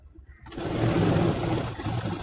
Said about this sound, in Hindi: नीचे तक सिलाई चला देंगे